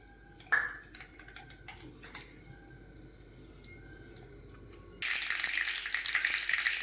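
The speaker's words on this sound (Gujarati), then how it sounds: "જો હવે તેલ ગરમ થયું આપણે રહી નાખી દો" Mustard seeds going into hot oil: a quiet kitchen with a sharp clink, then a sudden loud, dense sizzle that holds steady at close range.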